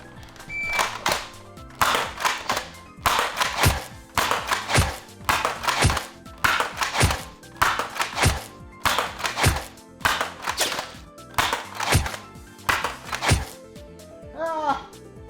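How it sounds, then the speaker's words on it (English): Adventure Force Conquest Pro foam dart blaster slam-fired in a fast steady run, a dozen sharp thunking shots about once per second, close and loud, with faint talk in the background. "we'll do one run that's just slam fire to see if accuracy really does suffer that much from slam fire"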